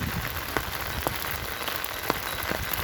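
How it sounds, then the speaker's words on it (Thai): Rain comes down steadily in a farmyard where calves are kept, a broad close hiss broken by sharper drop ticks landing on a hard surface, unbroken throughout with no talking. "มาอีกละฝนพี่น้อง"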